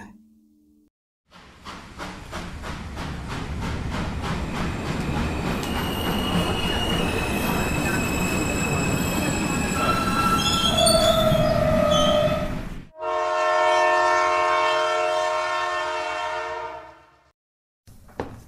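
A train rumbles through loudly for several seconds, wheels squealing and screeching as it rolls along, then a long blast of the horn sounds before it cuts off.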